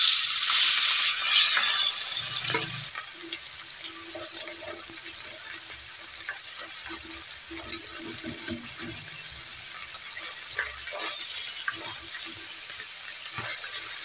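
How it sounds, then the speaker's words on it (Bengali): Fish laid into a little hot oil in a pan for a pickle crackle and hiss loudly at first, then settle into a quieter, steady sizzle with occasional pops, close by and with no talk. "অল্প তেলে আমি মাছগুলো ভেজে নেব।"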